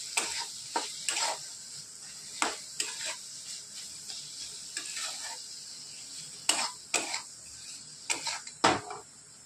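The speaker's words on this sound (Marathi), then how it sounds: "मिक्स करून घेत आहोत।" Green chili thecha is stirred in a pan, with a spoon scraping and clinking against the metal in irregular strokes over a soft, steady background hiss.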